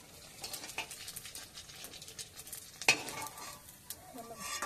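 Fuchka puris deep-fry and puff up in hot oil with a dense, crackling sizzle close by. Faint stirring scrapes run through it, with one sharp clink midway.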